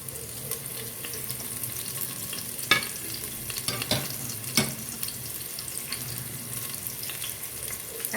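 Onions with ginger and garlic paste sautéing in a pot, a soft steady sizzle with scattered clinks and scrapes from a spoon stirring, close and without talking.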